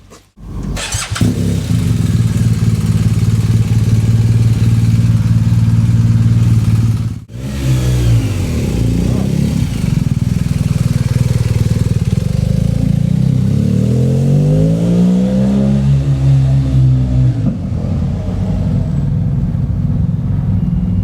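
BMW R1250GSA adventure motorcycle on a test ride, its engine loud and close, revving hard through rising and falling harmonic sweeps with a brief cut near the middle, no talk over it.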